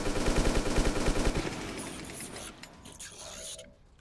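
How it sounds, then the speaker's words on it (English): Rapid automatic gunfire rattles loud and close in the XCOM 2 video game, a dense burst lasting over a second, then fading into scattered mechanical clatter and quieter game noise. "So just shoot normally."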